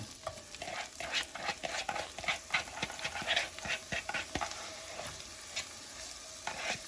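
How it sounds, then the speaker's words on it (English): Shallots and onions fry in a well-heated pan, giving a soft continuous sizzle broken by repeated scraping strokes of a utensil as they are stirred, fairly quiet and close, with no talking. "Heat this up really well. We're going to put the rest of our shallots and onions in that we cut before."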